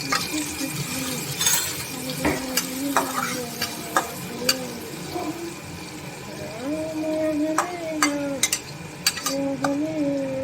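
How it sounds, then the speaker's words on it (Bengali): Chopped prawns fry in a pan for a pumpkin and prawn dish, with a steady sizzle broken by spatula stirs and clinks, while a voice hums in the background now and then. "তো আমি মাছগুলিকে প্রথমে খুব সুন্দর করে দেখো ভেজে নিচ্ছি"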